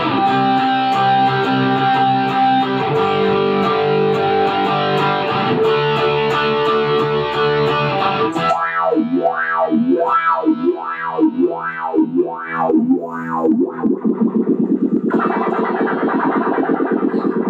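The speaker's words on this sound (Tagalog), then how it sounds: "So, gamit na ng distortion." Electric guitar played through the distortion side of a Joyo Vision dual-mode pedal: loud sustained distorted chords, then a wobbling swept tone, ending in dense driven notes with no talking.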